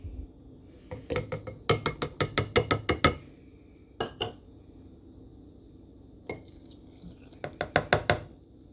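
Sourdough starter stirred in a jar for day two, giving bursts of quick rhythmic clinking and scraping strokes, close and fairly loud, separated by short pauses.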